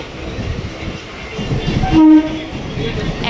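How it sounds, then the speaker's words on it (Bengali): Trains pass one after another on a cool, rainy evening near Halisahar, producing a continuous rolling rumble. A short, loud horn blast sounds midway through. "একটার পর একটা ট্রেন যাচ্ছে"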